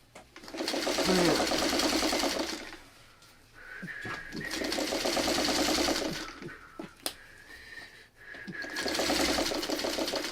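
Sewing machine stitching curved seams on a quilt block, a close steady rapid whirring run in three long bursts separated by short pauses with small clicks and handling sounds.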